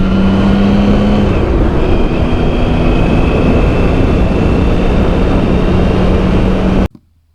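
A motorcycle pulls out of a road bend under power, its engine a loud, steady roar that holds for several seconds before cutting off abruptly.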